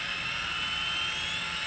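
Gimbal servos on a helicopter running a KK2 controller with firmware 1.5 correct the roll as the craft is tilted, giving a steady, close electric whine with a constant high hum throughout.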